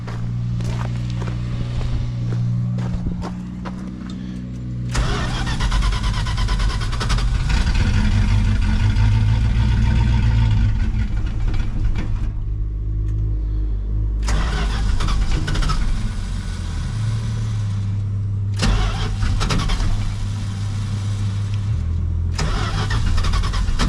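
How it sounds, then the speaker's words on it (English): Old truck engine in a Southern truck cranking after fuel is poured in, then firing into a loud, close, rough running rumble that cuts out and restarts, no talk. "Engine fires."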